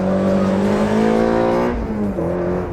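An Ariel Nomad's 2.4-litre Honda K24 VTEC engine revs hard and high, holding a loud rising scream before the pitch drops briefly and climbs again.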